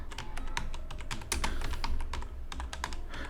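Keys clatter on a computer keyboard as a company name is typed, a quick, uneven run of close clicks over a low steady hum, with no talking.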